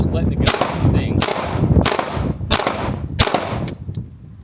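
Pistol shots fired in quick pairs at a shooting range during a doubles drill, five sharp loud cracks with ringing tails, spaced roughly every second, plus a faint extra pop near the end.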